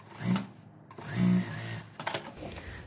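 A sewing machine runs a 0.5 topstitch along the seam of a gathered skirt, with the seam allowance pressed to one side. It comes in two short, close bursts of motor whir separated by a pause, followed by fainter handling noises.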